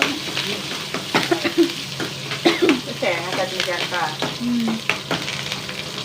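Curry leaves frying in hot oil in a pan for a chutney, a loud steady sizzle with crackling pops and stirring scrapes, close up and continuous.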